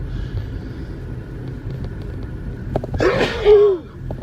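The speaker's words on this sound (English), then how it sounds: "I'm going to sneeze here." A single sharp sneeze bursts out over a low background rumble of passing traffic.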